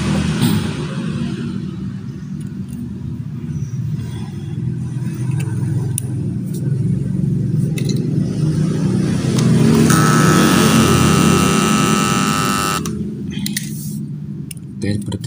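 A loud, harsh hiss and hum of a noisy Electrolux washing machine water inlet valve, steady and noisy, with a brighter rushing burst partway through.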